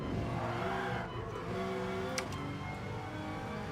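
A race car in Gran Turismo Sport runs at speed with a loud, continuous engine drone and brief tire squeal as it slides and makes light contact with another car.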